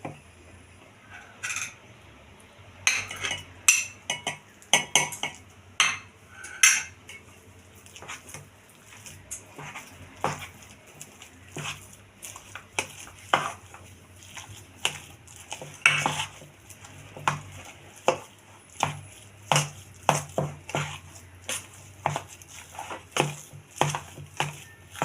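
Cooked jackfruit is mixed into rice flour dough in a bowl, with repeated sharp clinks and scrapes of a utensil against the dish arriving in irregular bursts over a quiet background.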